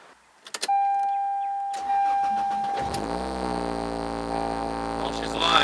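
A Toyota 7AFE engine swapped into a Geo Prizm: clicks and a chime, then the starter cranks briefly before the engine catches and settles into a steady, close idle with a slight rev at the end.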